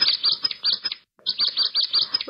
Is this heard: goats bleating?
no